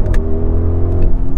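An Audi engine on kickdown, with a loud, steady low rumble and exhaust roar building continuously through a short burst of hard acceleration.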